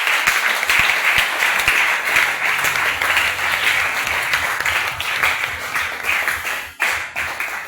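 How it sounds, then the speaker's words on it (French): A church congregation bursts into loud, sustained applause at a Tuesday service, dense overlapping clapping filling the whole stretch with a brief dip near the end. "Acclame pour la gloire de Dieu"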